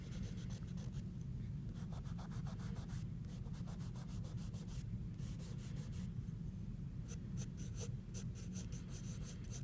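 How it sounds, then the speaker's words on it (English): The side of a charcoal pencil shades across paper in steady, scratchy rubbing strokes that continue without pause for several seconds, close up with no talking. "I kind of just use the side of the pencil to put down some charcoal"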